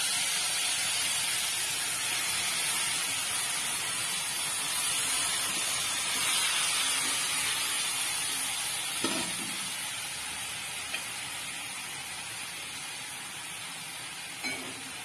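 Grated colostrum (kharvas) hits a hot kadhai and sizzles in a steady, loud hiss that slowly fades, with a few faint stirring scrapes near the end.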